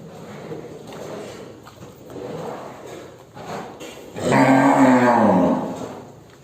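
A cow moos loudly and close by in a pen of cattle offered for sale, one long low call after a stretch of muffled background noise.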